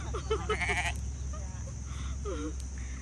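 Sheep bleat in a few short, wavering calls against a steady low hum, with people talking in the background on a farm visit in Chiang Mai.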